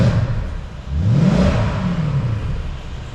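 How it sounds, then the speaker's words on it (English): A Mercedes SLK55 R172 with a cold 5.5-litre V8 blips to about 3,000 RPM, the engine note rising sharply and falling back to a steady idle, loud and close with a barking tone. "we'll give the car a little rev"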